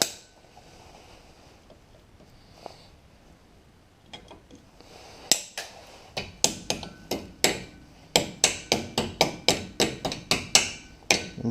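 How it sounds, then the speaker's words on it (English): A hammer taps the split ends of a cotter pin flat on the brake assembly of a 1970 Chevy Camaro, with a quick run of sharp, close metallic strikes that start sparse and grow steady and rhythmic. "I'm kind of tapping them flat"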